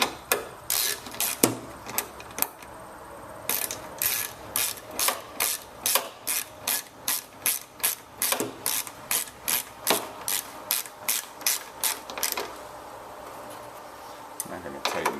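A hand ratchet tightens a headlight part on a Pontiac G6. Close, fast runs of crisp clicks come in bursts with short pauses, and some speech is heard in places.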